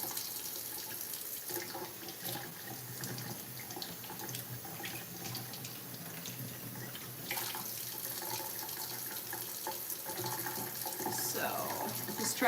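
A kitchen tap running into a sink while mushrooms are rinsed under it, a steady close splashing hiss that swells slightly near the end, with a voice talking faintly beneath.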